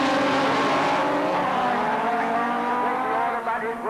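Rallycross race cars, Saab and Lotus among them, roar loud and close at the start of a 1985 Lydden Hill winter series race, engines revving hard with squealing tyres and a steady, dense wall of motor noise throughout.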